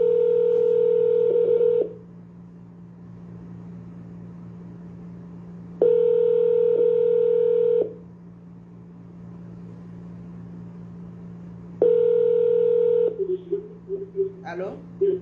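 An outgoing phone call rings on the line with three long, evenly spaced tone bursts separated by pauses. A faint hum runs underneath, and a voice begins to answer at the end.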